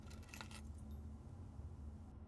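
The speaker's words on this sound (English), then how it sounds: "Car keys." Car keys being picked up in the puzzle video game Blue Prince give a short metallic jingle in the first half second, then fade into a steady low background hum with no talking.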